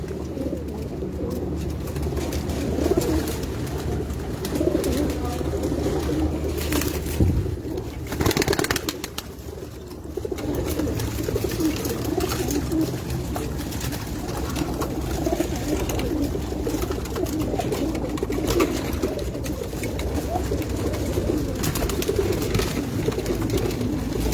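Pigeons on a rooftop loft of racing birds, a steady bed of soft, overlapping cooing that continues throughout at moderate distance with no talk.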